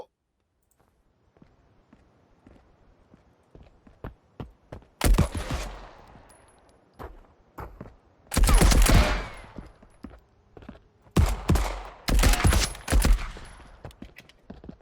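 Bursts of gunfire in the video game Marauders, three loud sustained volleys around scattered quieter single shots and clicks, with no talk over them.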